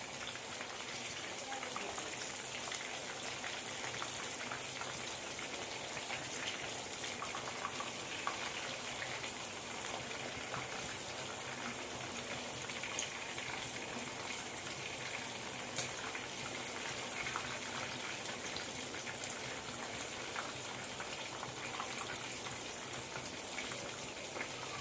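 Fish fillets frying in a pan of oil, a steady, close crackling sizzle that runs unbroken and even throughout.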